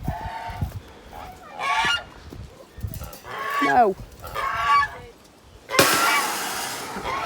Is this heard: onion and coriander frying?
no